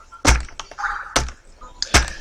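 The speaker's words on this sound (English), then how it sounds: "My nephew's banging my hand against the keyboard in case you're wondering what's going on." Three heavy thunks as a hand is banged down onto a computer keyboard, loud and close, spaced roughly a second apart with lighter key clatter between them.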